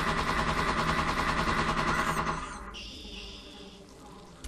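Rapid automatic gunfire from a weapon in the video game Parasite Eve II rattles loudly and evenly for about two seconds, then cuts off into a quieter electronic hum.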